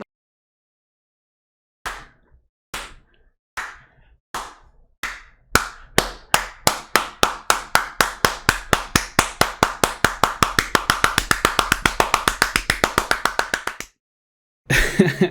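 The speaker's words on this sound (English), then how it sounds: "They're incredibly red from all that clapping." Bare hands clapping alone, starting with slow separate claps that steadily speed up into a rapid continuous run, loud and close, then stopping briefly before a final burst.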